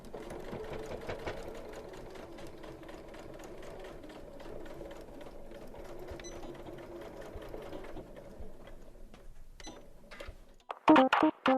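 A Janome sewing machine runs steadily through a seam on a pair of shorts, a continuous close whirring hum that stops near the end, followed by a few louder clicks and handling knocks.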